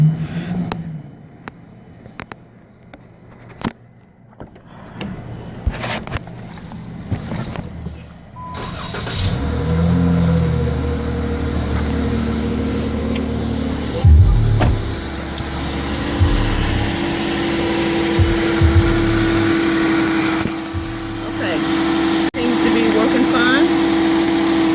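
After some quiet handling clicks, a 2011 Dodge Challenger engine cranks and starts with a new serpentine belt, then settles into a steady idle with a whining belt or accessory tone and a few revs; a person talks briefly.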